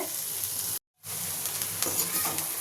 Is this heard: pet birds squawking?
no